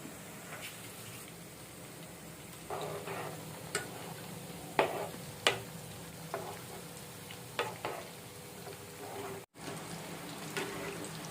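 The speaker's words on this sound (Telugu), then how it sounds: "పర్ఫెక్ట్గా ఫ్రై అయ్యాయండి" Chicken pakoda pieces frying in oil, a faint steady sizzle broken by occasional sharp clicks and clatters of stirring nearby.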